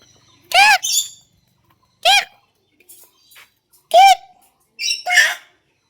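A bird lets out loud, close, harsh squawks, five bursts spaced about a second or two apart, with near-silence between them.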